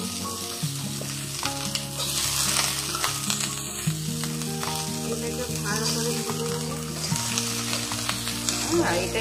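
Broccoli fries in oil in a pan with a loud, continuous sizzle and crackle, under steady background music.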